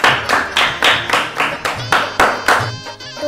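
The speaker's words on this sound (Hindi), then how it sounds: "जोरदार तालियों के साथ स्वामी बापा का आभार व्यक्त करते हैं।" At a BAPS children's devotional gathering, an audience claps loudly in a steady rhythm, about eight strong unison beats in quick succession.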